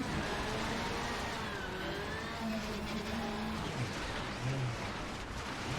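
Rally car engine droning continuously through a handbrake turn into a hairpin in Richard Burns Rally, steady loud mechanical roar with slight tire scrub and no clear pauses.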